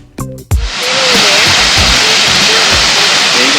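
Rainbow Falls pours in a steady, loud roar of falling water, a broad hiss that sets in after a couple of brief thumps and holds to the end, with faint voices underneath.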